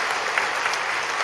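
A church congregation applauds warmly, a dense and steady burst of clapping that fills the sanctuary with no voices over it.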